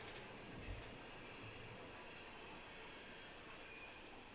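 A freight train of gondola and cylindrical cars rolls past at roughly 45 to 50 mph, a steady broadband rumble and wheel roar held at an even level for the whole stretch, with one brief low thump near the start.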